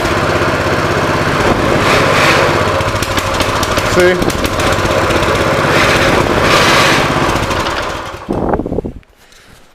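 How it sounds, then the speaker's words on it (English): Close up, a Coleman CT200U mini bike engine idles with the choke off, keeping a steady buzzing putter that swells slightly now and then before cutting out near the end. A voice briefly speaks over it. "The idle smooths right out once it starts."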